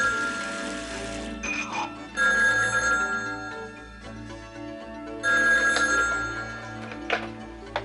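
An old-style telephone bell rings in repeated bursts, loud and close, with a pause between rings and low background music underneath.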